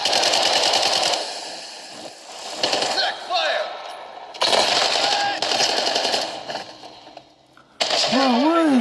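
Rapid automatic gunfire bursts from Call of Duty Modern Warfare 2 multiplayer, loud and repeated in several stretches separated by brief gaps, with game effects and a voice-like tone near the end.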